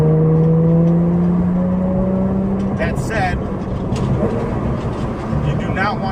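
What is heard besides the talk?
Porsche 992 GT3 with Dundon titanium exhaust driving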